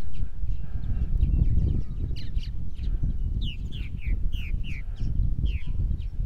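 Purple martins give a run of short, rising chirps and calls, some close and some farther off, over a steady low rumble of wind or background noise.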